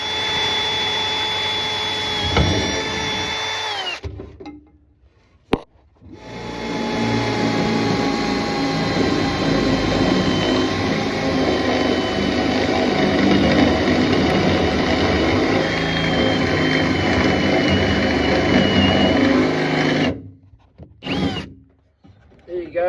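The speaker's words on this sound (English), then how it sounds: "So I'll punch that through, get the right hole size, get my conduit through" Milwaukee power tool running steadily to punch a conduit hole while wiring a dory, a loud continuous whirring drone that stops briefly near the start and cuts out near the end.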